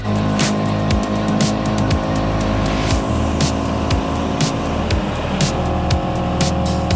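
A home-built Zetec-powered Mk2 Ford Escort runs hard and fast, its loud engine revving up and down in steady bursts with sharp gear-change dips and occasional tyre noise, close and continuous with no talking.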